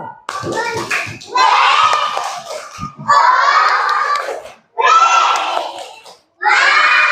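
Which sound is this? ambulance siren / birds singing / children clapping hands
children clapping hands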